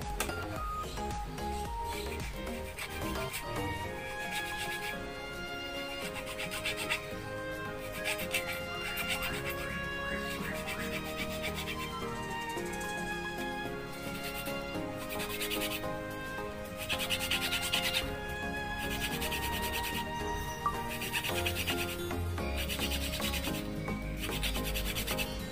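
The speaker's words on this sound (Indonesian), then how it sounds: "lalu kita rapikan bekas potongan ini menggunakan kikir." Hand file rasping over freshly cut edges left by a hacksaw, a steady run of rhythmic rubbing strokes, fairly close and quiet, alone without talk.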